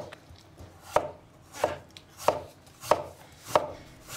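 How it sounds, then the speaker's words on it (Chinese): A knife cuts peeled potatoes into slices on a board, six crisp evenly spaced chops at a steady rhythm, close and clear with nothing else heard. "然后把土豆全部切成片"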